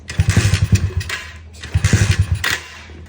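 Extreme 110 pit bike engine being kicked over, two bursts of sputtering, uneven engine firing that each die away without catching, close and fairly loud.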